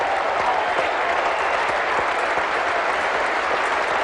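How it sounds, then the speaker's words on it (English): A large cricket crowd at a 1977-78 India versus Australia Test in Brisbane applauds Peter Toohey reaching fifty on day three, a broad, steady wash of clapping heard at a distance without letup. "And that applause from the best crowd of the match so far on this 3rd day."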